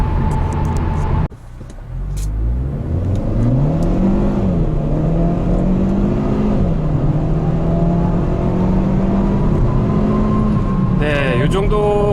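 A Hyundai Veloster 1.6T-GDi in sport mode with manual S-mode shifting accelerates hard from a standstill, its engine note rising steadily over several seconds and dipping briefly at a gearshift, heard loud from inside the cabin.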